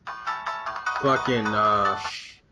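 A phone ringtone plays a bright melodic tune for about two seconds, loud and close, ending abruptly as the call is cut off.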